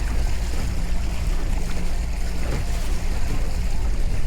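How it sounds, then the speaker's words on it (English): Electric trolling motor driving a fishing boat across open water into the wind, a steady low hum and whir running continuously under wind and water noise, close by. "old battery's throwing some juice in this trolling motor"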